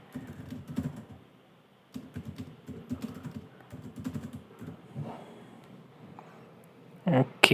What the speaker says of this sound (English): let's type something like